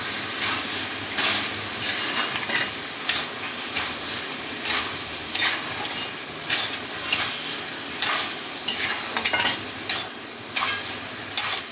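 Prawn and ash gourd curry with coriander leaves being stirred in a pan, a soft continuous sizzle under repeated rhythmic scraping strokes of a spoon, close and steady, with no voices.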